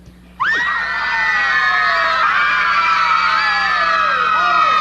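A group of children yell together as loudly as they can. The shout starts suddenly after a brief quiet and holds as a sustained, overlapping chorus of high voices in a 1949 Western film.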